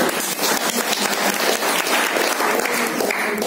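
A lecture audience breaks into dense, sustained applause, many hands clapping together loudly for a few seconds.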